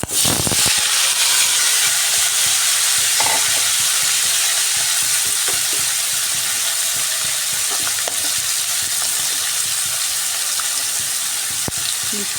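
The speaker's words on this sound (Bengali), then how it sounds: "ফোড়নটা ভাজা ভাজা হয়ে এসছে এবার কেটে রাখা ঝিঙ্গে আর আলু দিয়ে দিচ্ছি" Chopped ridge gourd and potato fry in oil tempered with five-spice (panch phoron), a loud, steady, hissing sizzle that carries on throughout, broken by occasional soft stirring clicks.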